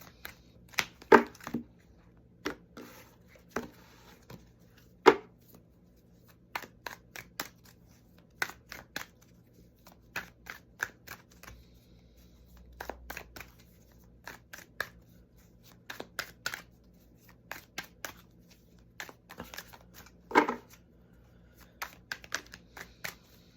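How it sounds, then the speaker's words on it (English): Crisp, irregular bursts of card riffling and soft clicks as a tarot deck is shuffled repeatedly, close by with short pauses between rounds. "Anytime the shuffle takes a while, represents a blockage."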